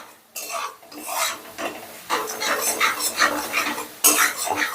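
Flour is stirred in a pan over a low flame for a butter garlic egg dish, making rhythmic close scraping and rubbing strokes of a spatula against the pan, repeated steadily throughout.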